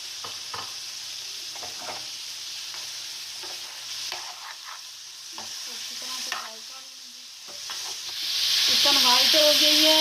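Chicken pieces scraped and stirred in a hot pan sizzle over a steady hiss, with clattering spoon strokes and a louder burst of frying toward the end.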